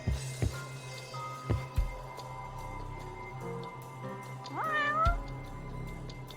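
Hidden cat in the video game Judgment meows in a rising, bending cry near the end, after a couple of short thumps, over a steady low game hum.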